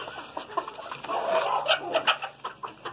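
Frizzle and Polish crested chickens clucking close by in a poultry yard, a steady run of short overlapping clucks and soft calls, busiest in the middle and alone without talk.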